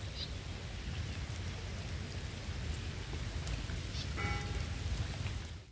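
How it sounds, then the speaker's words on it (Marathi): Steady rain falls at a creek during a fishing outing, a dense, even hiss of drops on water and surfaces that holds fairly loud and constant throughout. "हे पाऊस इलो"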